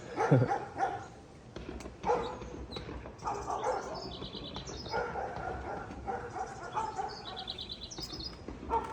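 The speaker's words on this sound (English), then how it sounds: "You got neighbor dogs?" Neighborhood dogs bark in a few scattered bursts some distance away from a fenced backyard, with birds chirping in the background.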